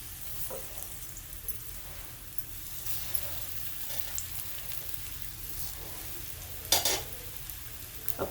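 Crispy potato slices fry in oil in a pan, a steady close sizzle with occasional spatula scrapes and small pops, a sharper burst near the end, no voices.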